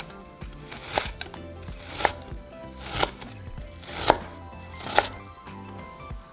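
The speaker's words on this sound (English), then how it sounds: "for our onion, we're going to cut it into strips" A knife chops an onion into strips on a cutting board, about six sharp, evenly spaced thuds with quieter slicing scrapes between them, close and alone.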